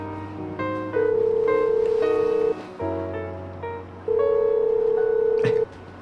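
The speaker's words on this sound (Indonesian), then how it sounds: "ayo cepet telepon sekarang, Mai" A phone call being placed: a series of short dialing tones followed by long, steady ringback tones with pauses between them, fairly loud and close, with no one speaking.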